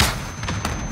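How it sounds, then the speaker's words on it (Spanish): A grenade blast in the video game Warzone lands as a sharp, close boom with a brief rumbling tail, followed by a couple of lighter thuds, all within under a second. "¡Granada va!"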